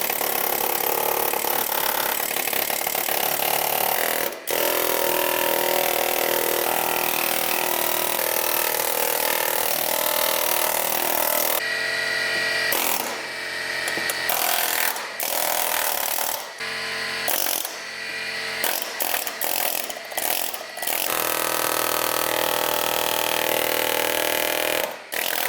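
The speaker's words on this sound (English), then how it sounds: "a little air hammer did quick work on that tunnel" A small air hammer hammers at a vehicle's transmission tunnel during a Vortec 4200 and Nissan six-speed swap, loud rapid bursts of metallic chattering broken by short pauses, growing choppier toward the end.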